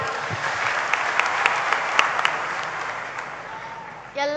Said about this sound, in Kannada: ಈ ಮಕ್ಕಳ ಪ್ರೀತಿಗೆ ಬರಲಿ ಚಪ್ಪಾಳೆ